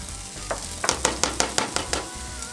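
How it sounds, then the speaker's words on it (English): Onions sweat in melted butter in a pan, a steady sizzle broken by a quick run of sharp, evenly spaced utensil clicks against the pan, with no voices. "We're gonna go ahead and put the onions in and sweat the onions down"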